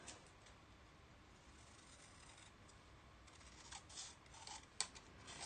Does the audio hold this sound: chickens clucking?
no